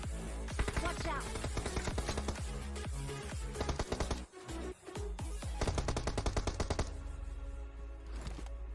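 Rapid, loud automatic gunfire in PUBG Mobile gameplay rattles in dense bursts, with a brief pause before more shots continue.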